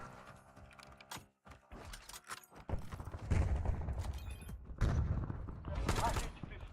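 Black Ops 7 weapon magazine reload heard as a series of metallic clicks and ratcheting mechanism sounds over busy gunfire and game noise, with voices talking throughout.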